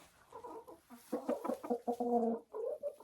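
Hens cluck and chatter beside a rooster in a chicken coop with nest boxes, a close run of short throaty calls in uneven bursts, alone with no talk.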